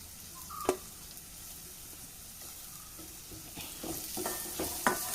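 Sliced onions sautéing in oil in a pan, a gentle steady sizzle broken by occasional scrapes and clicks of a stirring spoon that grow busier toward the end.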